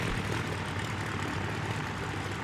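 Propeller airplane engines drone steadily in the Sky Haven video game, a constant broad rumble and hiss with no breaks, moderately loud and without any talk.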